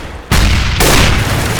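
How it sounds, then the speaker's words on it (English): A grenade blast in the video game Counter-Strike bursts in suddenly as a loud, wide boom that stays dense and roaring for over a second, with a second surge partway through. "And a grenade."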